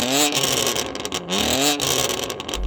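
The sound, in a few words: sports car engine revving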